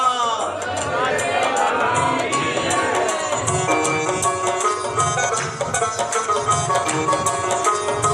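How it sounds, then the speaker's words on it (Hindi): Devotees at a Hindu religious gathering honouring Lord Satyanarayan shout a jaikara chant together, a loud massed crowd of voices with music underneath and a lively, cheering character throughout. "ऊपर हाथ करके जयकारा लगाइए, जयकारा श्री सत्यनारायण भगवान का"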